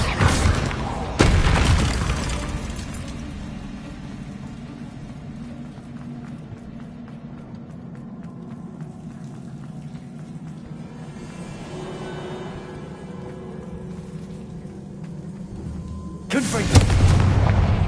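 A Bombarda explosion spell goes off in Hogwarts Legacy, a sharp loud blast at the start and another near the end, with a sustained low rumble and game ambience in between.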